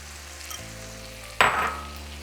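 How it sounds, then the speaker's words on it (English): Chorizo frying in a pan with roma tomato, serrano chile and white onion, a steady sizzle that jumps to a loud burst of crackling midway as fresh ingredients hit the hot fat, then settles into continued frying. "allow the chorizo to cook for about 3 minutes"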